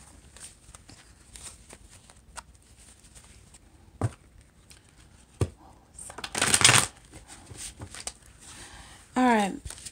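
Soft scattered flicks and taps of cards being handled, then a brief riffle burst of a deck being shuffled, followed by a short spoken word.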